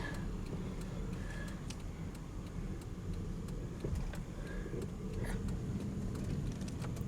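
A Pontiac Aztek with awful brakes and fresh outer tie rod work creeps along very slowly. The low engine and rolling rumble is faint and steady, with a few light clicks and knocks.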